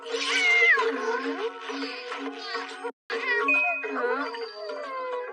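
A voice imitates a cat, giving a run of high, drawn-out meows and wails from a cartoon robot cat, close and alone, broken by one short silent gap.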